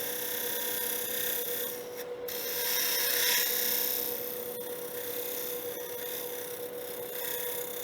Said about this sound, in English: I'm going to bring this skew in